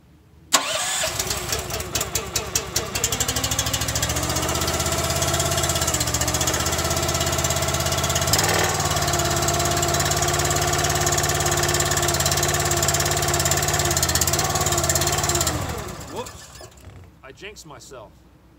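Small gas engine on a wood splitter pulled to life after a choke, catching quickly and settling into a steady, loud mid-pitched run that holds for many seconds before cutting off and fading.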